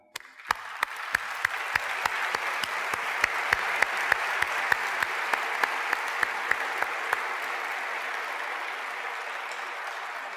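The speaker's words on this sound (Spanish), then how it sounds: "me acompañen a aplaudirlo hoy" A large audience at a leadership talk applauds steadily for about ten seconds, a dense wash of clapping with a few sharper claps standing out, fairly distant.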